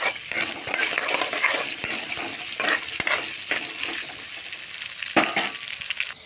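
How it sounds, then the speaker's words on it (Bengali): Cut potatoes fry in hot oil in a pan with a loud, continuous close sizzle, broken by the scrape and clack of a spatula stirring them every few moments. "এখন ভেজে নেব অল্প এখানে অলু দিয়ে দেবো বন্ধুরা দিয়ে হ্যাঁ, নাড়াচাড়া করবো"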